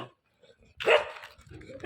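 A dog barks at a bike stop, with a couple of loud, close barks that rise sharply after a quiet opening. A fainter yelp follows near the end.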